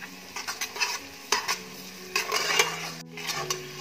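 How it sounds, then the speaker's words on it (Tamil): A spoon stirs and scrapes onions sautéing in a pan for chicken biryani, with close clinks and scraping strokes over a soft sizzle. "வெங்காயம் நல்லா செவச வதக்கணும்."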